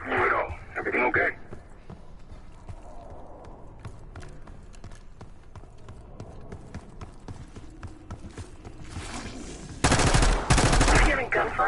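Distant gunfire in the Black Ops 6 video game campaign, rattling in scattered bursts that swell into a loud, dense volley near the end.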